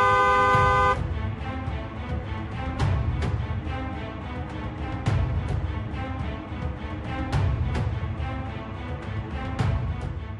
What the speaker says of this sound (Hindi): इसलिए हॉर्न बजाना भी बहुत जरूरी है